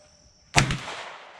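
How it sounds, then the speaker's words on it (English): A single loud gunshot cracks out at close range after a quiet moment, followed by a short ringing echo that fades away. "Dad's gonna shoot this for the first time."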